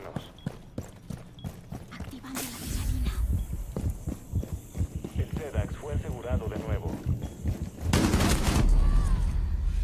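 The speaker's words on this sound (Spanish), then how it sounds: "¡Y me gana el disparo!" Gunfire in the tactical shooter Rainbow Six, heard as sharp repeated shots early on and a loud burst near the end, mixed under excited talk from players.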